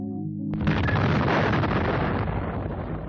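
A deep, loud explosion standing in for the atomic bomb at Hiroshima in a documentary on nuclear science: a sudden blast after a brief low tone, then a sustained rumbling roar that slowly fades, with no voices.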